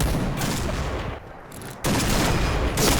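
Sniper rifle fire from a Barrett in the Point Blank shooter game comes through a dense, noisy gunfire bed. It drops briefly to a muffled lull, then a sharp burst brings the loud firing back.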